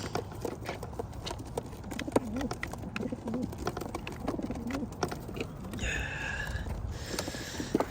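Pigeons coo in a loft of young training birds, soft repeated throaty calls at close range over a busy background of rustling, clicks and wing movements.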